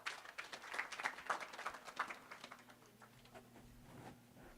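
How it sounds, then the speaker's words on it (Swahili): Applause from an audience at a report launch event, a faint, distant patter of clapping that swells briefly and then thins out into sparse claps. "Makofi kwake."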